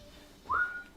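A person whistles one short rising note that lasts about a third of a second, clear and fairly close against a faint, quiet background.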